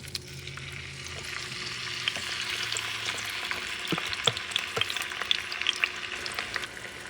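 Tomatoes frying and softening in a hot pan, a dense close sizzle with sharp crackles and spatula stirring that grows busier partway through, no voices.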